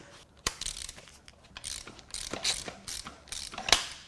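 A 2016 Ford Focus 1.0 EcoBoost three-cylinder engine at 121K miles is cranked with its spark plugs removed, giving an irregular, metallic ratcheting churn with sharp clicks and puffs of air, heard alone at close range.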